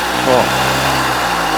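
A CG Titan motorcycle fitted with a Makita marble saw motor whines close and loud in a brief steady rev, its buzzing drone continuous, with a voice briefly over it.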